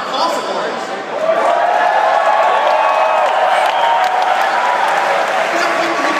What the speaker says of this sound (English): This is a great big crowd of Ron Paul supporters.